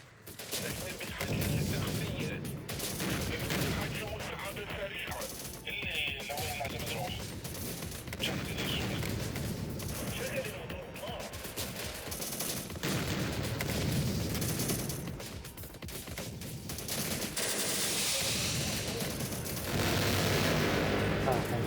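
Mortars fire in the Syrian Warfare strategy game amid urban combat, a dense, continuous din of booms, shots and rumbling blasts that goes on throughout, with voices talking at times over the battle.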